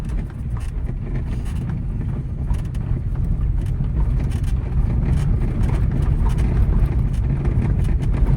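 A car turns and then straightens out with a half-clutch release during a driving lesson. A continuous engine and road rumble is heard close up with some wind noise, and no speech is heard.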